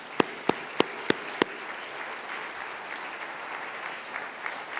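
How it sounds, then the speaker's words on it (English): Audience applause for the President of Ghana at the 2018 Concordia awards event: a few loud, close claps open, then a steady wash of crowd clapping continues at moderate level. "So please give him a round of applause."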